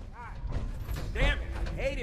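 A vault door in Fallout 4 opens with heavy mechanical creaks and groaning metal, a few drawn-out swells over a low rumble and thud, while a voice talks over it.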